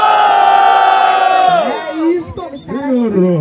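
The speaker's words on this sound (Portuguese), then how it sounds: "Cartumbi, muito barulho pro terceiro round!" Crowd roaring and cheering at a freestyle rap battle during a state final in Rio de Janeiro, a loud sustained swell of voices that then breaks into scattered shouts and whoops.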